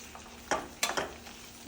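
Green chillies are stirred and sautéed in oil in a pan for pickle, giving a few distinct spoon scrapes and clacks spaced apart over a faint, low sizzle.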